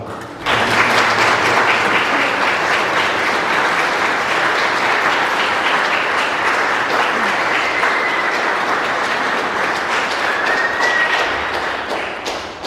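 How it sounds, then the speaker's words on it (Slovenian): Church congregation applauding during a jubilee mass for married couples in Rovte, Slovenia; sustained dense clapping fills the hall for about twelve seconds before fading. "naj bo en pozdrav iz občestva z enim aplavzem"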